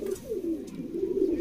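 A Tedhi-bloodline female pigeon coos in a steady, close, fairly loud run of low throaty notes with no voices over it.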